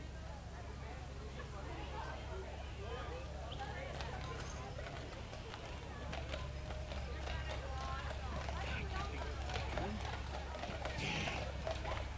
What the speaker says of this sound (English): Beautiful team of Belgians.